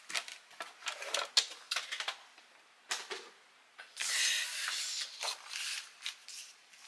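Card paper being cut in half with scissors or a paper trimmer for a handmade notebook craft, giving a series of close, crisp snipping and rustling strokes in irregular bursts, with one longer continuous cutting stretch.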